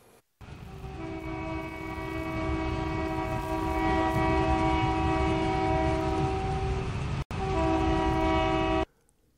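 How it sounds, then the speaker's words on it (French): A passenger train at Ouagadougou railway station sounds a long, loud, steady multi-tone horn that holds for several seconds, breaks off briefly, then resumes before stopping. "Le train voyageur siffle à nouveau ici, à la gare ferroviaire de Ouagadougou"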